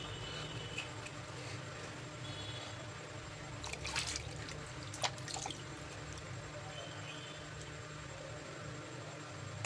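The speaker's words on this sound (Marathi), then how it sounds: "अशा पद्धतीने हे सर्व आंबे धुवून घेतले व्यवस्थित" Mangoes are washed by hand in water: faint sloshing and dripping, with a couple of brief splashes against quiet background noise.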